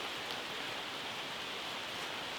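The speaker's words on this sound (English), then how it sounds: "It's raining." Rain falls steadily at a wild camp, a continuous, even hiss of drops with no breaks and no voices.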